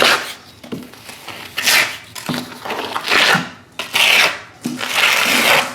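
A trowel spreads leftover thinset mortar across a bathroom floor during a renovation, filling shallow depressions. Close, gritty scraping and rasping strokes repeat in uneven bursts, some sharper than others, with no voices.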